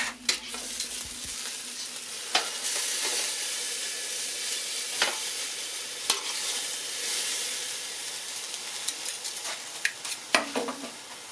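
A tallow-injected smoked tri-tip sears in a hot pan with a steady broad sizzle, broken by several sharp clanks and scrapes as it is flipped and handled, close and fairly loud, with no talking.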